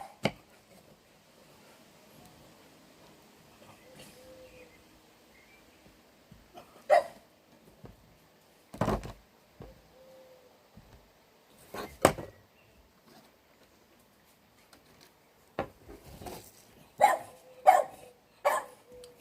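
A dog barks in scattered sharp single yaps and short bursts, close but with long quiet gaps between them, growing more frequent toward the end.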